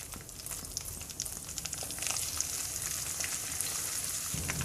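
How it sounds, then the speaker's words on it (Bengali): Chopped dried chillies fry in oil with a steady close sizzle and crackle, scattered pops rising slightly as they are stirred. "কাটা মরিচগুলো দিয়ে দিচ্ছি কিছুক্ষণ নেড়ে চেড়ে ভেজে"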